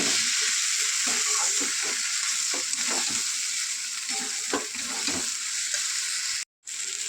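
Pointed gourd, soybean chunks and potato stir-frying with spices in a pan, a steady loud sizzle broken by repeated scraping stirs, ending in a brief cut of silence.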